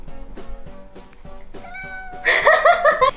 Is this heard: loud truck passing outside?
no